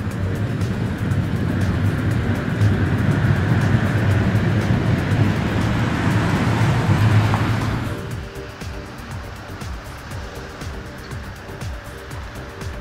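A vintage tram shunts across cramped depot grounds with a loud, close rumble of motor and wheels that fades abruptly about two-thirds through, leaving a quieter background with faint clatter.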